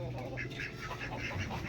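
A duck quacks several times at a family gathering, short nasal calls in a quick uneven series, fairly close and mixed with low background murmur.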